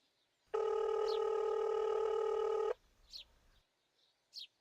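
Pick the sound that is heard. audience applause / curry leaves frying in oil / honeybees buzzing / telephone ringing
telephone ringing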